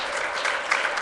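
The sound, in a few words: applause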